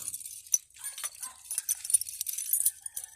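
A set of keys for a Yamaha Aerox V2 scooter jangles close by, with light metallic clinks and rattles coming in quick, irregular bursts.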